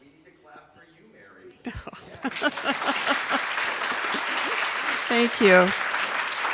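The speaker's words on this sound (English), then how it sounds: "We need to clap for you" Applause from a business meeting audience bursts in after quiet murmuring and swells into steady clapping, with a voice speaking briefly over it near the end.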